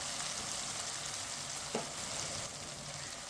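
Chopped tomatoes cooking in a pan for daal bhindi, a steady soft sizzle and hiss throughout with one small clink partway, quiet and close with no talking.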